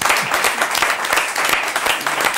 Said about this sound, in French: Moi, je crois qu'il faut l'applaudir.